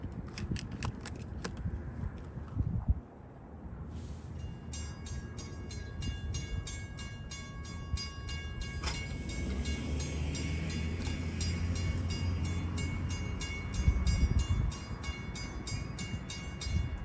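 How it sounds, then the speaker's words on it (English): A Long Island Rail Road Holiday Lights train moves past a lowered crossing on New Year's Eve, with a crossing bell ringing in a fast, even rhythm over a building rumble of wheels and engine. "the gates have just come down as the Holiday Lights train making its move."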